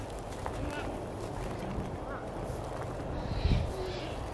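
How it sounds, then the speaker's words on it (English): Birds call outdoors near Belmont, Flagstaff, Arizona, with faint honking notes scattered over a steady low outdoor rumble and one louder burst late in the clip. "Whoa, I hear birds."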